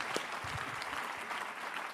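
A seminar audience gives a short burst of applause, an even, fairly faint patter of many hands clapping steadily for about two seconds.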